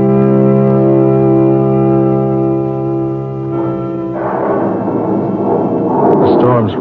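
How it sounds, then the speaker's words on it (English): Thunderstorm sound effect in a classic Christmas radio drama: a low rumbling roll of thunder builds and breaks into a loud, crackling burst of storm noise, with a sustained tonal drone underneath at first. "The storm swoops down."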